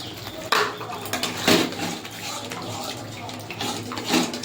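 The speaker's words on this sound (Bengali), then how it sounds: "বাটিটা ধুয়ে একটু জল দিয়ে দেবো।" A bowl rinsed under running water while cooking cauliflower rezala in a kitchen, splashing water with clinks of dishware, a few sharper splashes recurring through a steady wash.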